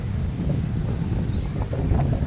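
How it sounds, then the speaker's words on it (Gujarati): Cold wind rushing and buffeting against the microphone, a steady low roar with gusty fluctuations and no one speaking. "આ કેવો મસ્ત પવન આવે નહીં"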